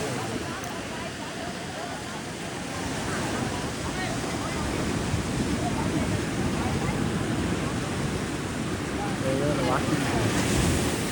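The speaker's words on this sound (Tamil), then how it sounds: "கடல் ஆழம்." Ocean surf rolling onto Varkala beach in Kerala, a steady broadband wash of breaking waves with heavy wind buffeting the microphone throughout, swelling slightly toward the end, with no clear voices.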